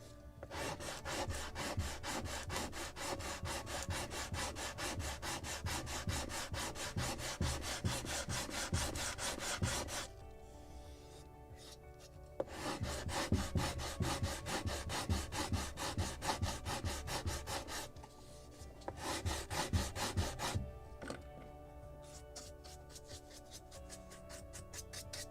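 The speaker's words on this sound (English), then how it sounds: "More sanding." Wooden hull planking on a model of the 1776 gunboat Philadelphia being sanded by hand, quick rhythmic rasping strokes close up, pausing twice briefly before resuming.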